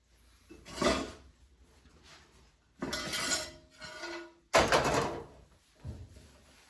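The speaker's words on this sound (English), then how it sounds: "So I'm just spooning the last of the sauce on top." Spoon scraping and clinking against a plate while the last of the chicken francaise sauce is spooned on, a few short close bursts with pauses between.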